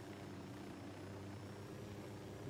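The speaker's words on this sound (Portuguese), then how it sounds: "Eu tenho que tomar cuidado, inclusive, na hora de parar o helicóptero aqui" A helicopter in the video game Ghost Recon Wildlands hovers and sets down, giving a steady, faint rotor and engine drone that holds evenly throughout, with no talk.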